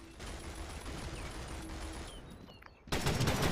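Gunfire in the World War II mobile shooter World War Heroes, a muffled battlefield din that breaks into a loud, close burst of shots at the end.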